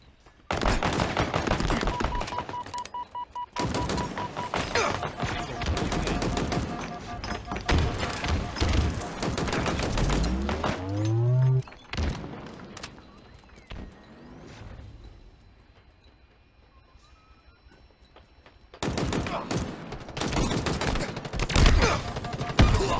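Bursts of rapid gunfire and explosive impacts in the shooter Halo Infinite crackle loudly, broken by a quieter lull before the shooting resumes, with game voice callouts mixed in.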